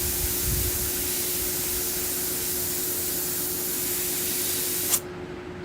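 An airbrush sprays paint onto a skull with a steady close hiss that runs for about five seconds and then cuts off abruptly, while the tip clogs with dried paint.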